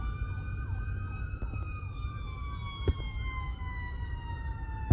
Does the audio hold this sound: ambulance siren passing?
yes